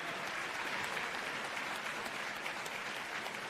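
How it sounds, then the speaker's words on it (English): An audience at the 47th Mid-America Emmy awards ceremony in 2023 applauds steadily for the winners and scholarship recipients, a dense, even wash of clapping from a large crowd with no talk over it. "one big round of applause for all of the winners and scholarships"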